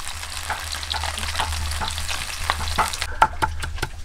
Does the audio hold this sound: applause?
no